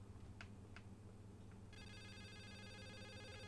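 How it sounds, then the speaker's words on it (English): A telephone rings in a hotel room within a video game, electronic ring bursts starting faint and turning into a sustained trilling tone, heard alone at low volume. "I hear a phone, but I don't see a phone."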